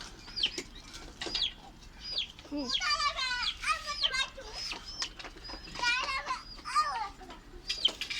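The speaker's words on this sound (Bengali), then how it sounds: "এই দেখেন আমাদের মুরগি।" Chickens cluck and squawk close by in repeated bursts, with occasional wing flapping, while people speak intermittently in the background.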